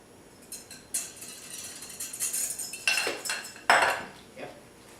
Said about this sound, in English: Make sure we use those tongs to really combine the salad really well